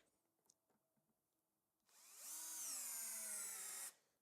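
A Bosch cordless screwdriver drives a screw into wood, a loud steady whirring burst of about two seconds that starts abruptly and stops cleanly, after faint bench clatter.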